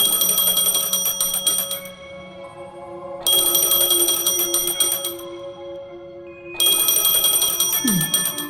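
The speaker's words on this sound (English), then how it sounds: "A phone." A phone in Honkai: Star Rail rings in three long bursts of bright electronic trilling, separated by short pauses, loud and close, with a brief sliding tone at the end.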